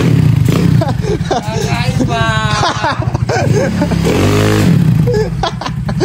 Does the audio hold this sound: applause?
no